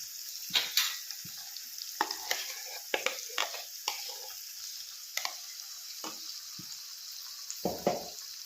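Green peas with masala fry quietly in a home kitchen pan, a soft sizzle broken by repeated scraping and clicking stirs at an irregular pace.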